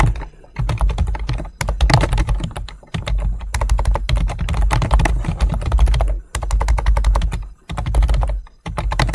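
Close, loud, rapid typing on a computer keyboard comes in fast bursts of key clacks with brief pauses between them, and no one speaks.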